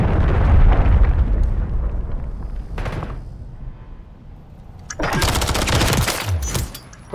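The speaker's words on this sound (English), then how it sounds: "Hostiles launched a cruise missile." Cruise missile strike in Call of Duty ranked Search and Destroy on the Rio map, heavy booming explosions and rumbling blasts followed by a burst of rapid crackling detonations, loud and close.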